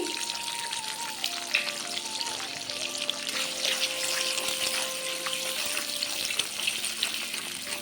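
Two eggs fry in a little salted oil for street-style chicken chow mein, with a steady close sizzle and occasional light clinks running throughout.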